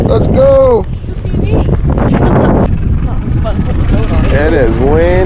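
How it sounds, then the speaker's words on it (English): Strong wind sweeps across a reservoir during a fishing trip, a steady roaring rumble buffeting the microphone throughout while people talk excitedly over it. "It is windy."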